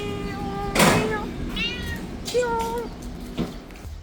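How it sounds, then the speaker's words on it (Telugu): A cat meows several times inside a Kerala-run restaurant in Kuwait while waiting near the tables for chicken, with a few clear, close, drawn-out calls over a quiet room hum. "పిల్లి రెస్టారెంట్లో చికెన్ కోసం కూర్చొనింది."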